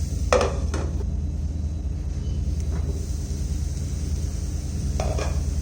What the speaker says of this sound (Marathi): हलवून घ्यायचं एकदा परत आणि झाकण ठेवायचं